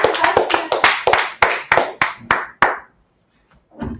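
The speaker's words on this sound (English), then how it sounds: "Clap it up for the class." An audience gives a short burst of applause, a dozen or so sharp, close claps in an uneven rhythm that slow and break off, then a brief pause before a little more clapping starts.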